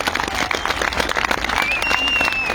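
Audience applause at an Armenian gathering in Shirak, steady dense clapping from a crowd throughout, with some voices mixed in.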